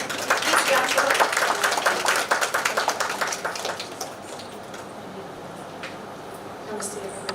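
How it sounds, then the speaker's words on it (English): Audience applause at the Unsung Women Warrior 2023 awards ceremony: a dense, crackling burst of many hands that swells loud for a few seconds, then thins and fades to scattered claps and room noise. "Please clap for her."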